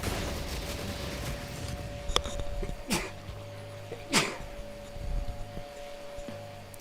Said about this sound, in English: Didn't want to sneeze in your ear.